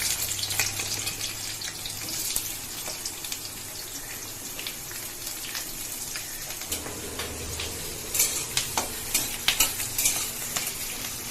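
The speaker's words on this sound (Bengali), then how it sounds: "পেঁয়াজটা হালকা হালকা ভাজা হওয়া অবধি অপেক্ষা, মানে খুব ভাজা হবে না, হালকা হালকা ভাজা হবে।" Onions fry in hot oil tempered with nigella seeds and slit green chillies, a close, steady sizzle with occasional spoon scrapes and stirring clatter growing busier toward the end.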